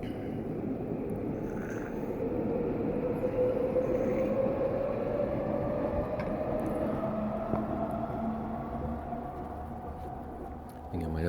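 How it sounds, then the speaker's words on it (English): A train rumbles past steadily with a continuous low roar and a faint rising whine, lasting throughout without pause. "I think I might have to wait for the other train to pass."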